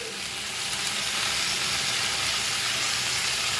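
Spice paste of ground mustard, cumin, coriander and ginger frying with vegetables for shukto, a steady loud sizzle and hiss that holds evenly from start to finish without voices.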